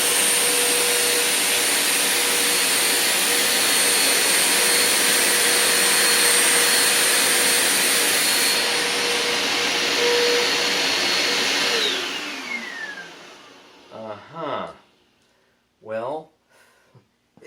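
A Bissell Powerforce Compact vacuum cleaner with a somewhat dirty filter runs at a loud, steady whine, then spins down over a few seconds and goes quiet, followed by a few brief clunks and handling noises.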